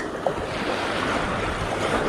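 Sea waves washing around a small fishing boat offshore on calm weather, a steady broad wash of water and wind noise with no talking.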